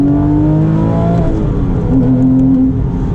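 Engine of a Porsche 997 GT3 sports car pulling steadily while driving, its tone climbing and dipping as the revs shift, continuous and loud from inside the car.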